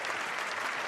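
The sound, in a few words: played applause sound effect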